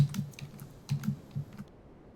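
Keys tapped on a computer keyboard in short bursts of clicks with brief pauses, close and fairly quiet, with no talking.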